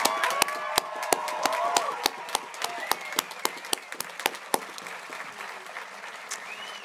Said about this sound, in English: Let's give our graduating seniors, graduate students, and returning members from class of 2020 a first well-deserved round of applause